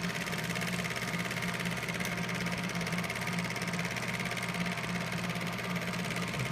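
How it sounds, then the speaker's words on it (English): Vintage Kodak Brownie A-15 8mm film projector running, its motor giving a steady, even whirring drone with a fine rapid mechanical flutter throughout, moderately close and uninterrupted by voices. "it'll be hard to hear what I'm saying over this motor"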